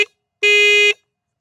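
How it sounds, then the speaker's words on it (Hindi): A Husqvarna Vitpilen motorcycle horn sounds twice at close range, a barely audible clipped blip followed by a half-second loud, steady electric honk with a bright, buzzy tone, alone without talk. "तो ऐसा है इसका हॉर्न का साउंड।"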